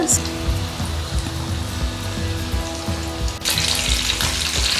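KFC-style popcorn chicken pieces fry in hot oil, a loud, steady sizzle that swells partway through, with someone talking over it.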